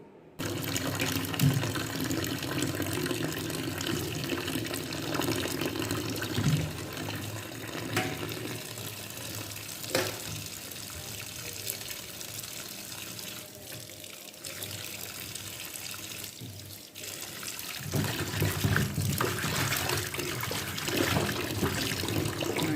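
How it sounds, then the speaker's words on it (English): Tap water runs steadily into a sink during washing up, a continuous close splashing stream lasting throughout with slight changes in flow. "Alright, so let's go wash up now."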